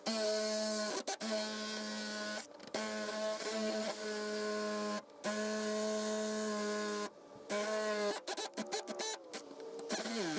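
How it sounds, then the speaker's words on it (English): Whining drill bores into the trunk lock of a 1967 Ford Galaxie 500, a loud, steady tone broken by several short pauses and then choppy, stop-start bursts near the end. "I've never drilled out a thing before, so we'll see how this goes."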